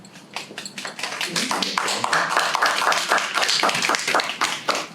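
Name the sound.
audience applause at a school board meeting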